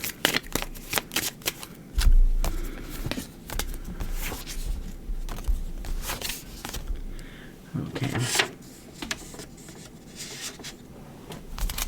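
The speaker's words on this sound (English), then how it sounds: "Just shuffle them up." A deck of tarot cards is shuffled up close in repeated riffling and slapping bursts. Soft handling noises fall between the bursts, and a quiet voice talks in the background.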